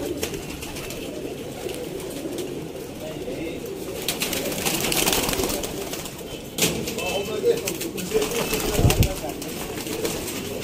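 Golden pigeons in a loft in Sialkot, cooing softly in low repeated calls amid faint flapping, with someone talking over them throughout.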